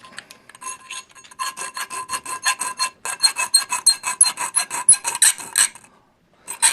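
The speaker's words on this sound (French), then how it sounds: "pour vous montrer, là, ma lime Kyodra" Rhythmic rasping strokes of a Kyodra file worked across a shield, loud and close, steady back-and-forth passes that speed up midway, then stop with a brief final stroke.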